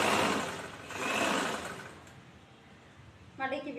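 A sewing machine stitches chudithar fabric with a rapid, close mechanical whirring in two short bursts, then quietens as a voice talks at the end.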